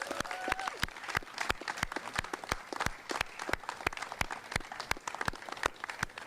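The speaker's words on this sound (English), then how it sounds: "please give a hearty round of applause to Senator Tom Carper" Sparse, spaced claps from a small outdoor crowd at a riverfront bridge ribbon-cutting, honoring Senator Tom Carper; individual sharp hand claps repeat irregularly for several seconds, moderately close, with no talking over them.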